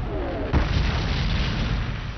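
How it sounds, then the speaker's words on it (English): Cannon fire during the WWII landings in North Africa near Casablanca and Oran, from Vichy French guns: one heavy, close boom lands early and rolls into a dense, rumbling wash of battle noise. "the British and Americans are greeted with cannon fire from the Vichy French."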